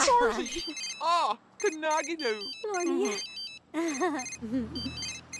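A phone rings inside The Sims 3, its electronic warbling ringtone repeating as a steady patterned trill under two people chatting and laughing over it.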